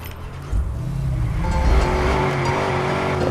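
A car in the video game Watch Dogs starts up and revs loudly, its engine rising and holding with a faint tire squeal, close and alone.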